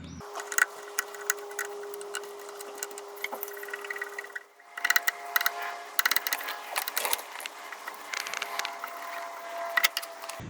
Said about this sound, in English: You're gonna have to remove that using a 10mm brake tubing wrench.